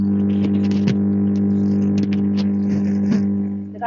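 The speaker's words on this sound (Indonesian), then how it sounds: "suara mobil" A car heard near an airport, a steady engine drone with a low hum and occasional faint rustles and clicks, continuous and fairly loud throughout.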